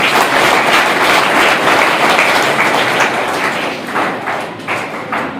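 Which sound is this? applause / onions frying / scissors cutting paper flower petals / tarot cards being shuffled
applause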